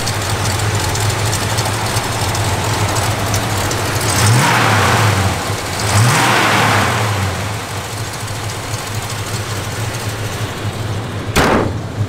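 A 1971 Plymouth GTX muscle car engine with a mild performance cam idles with a lumpy, loping rhythm, briefly revving twice before settling back to a steady rumble.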